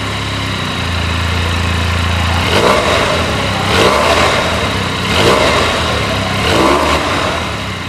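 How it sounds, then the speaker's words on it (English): Benelli TNT 300 motorcycle with a water-cooled 300cc inline parallel-twin four-stroke, eight-valve engine, idling close by, then blipped in three or four sharp revs that rise and fall back to idle. "an inline parallel twin cylinder 4-stroke 8-valve water-cooled 300cc engine"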